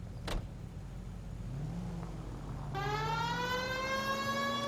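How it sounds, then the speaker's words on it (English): A police car siren in the video game L.A. Noire wails, rising in pitch and growing louder over a steady engine hum, with a sharp click near the start. "we'll use the siren"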